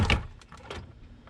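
Plastic door trim panel on a 16-year-old Chevrolet Avalanche being pried loose with a large screwdriver, giving a few sharp close cracks and pops as the clips let go, with quieter rustling between.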